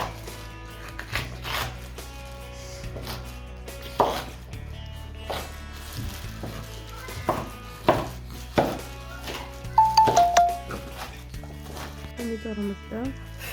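A knife chops vegetables into large pieces on a board for a lagman mixture, with scattered, irregular chops and a short flurry of cuts over a quiet musical background.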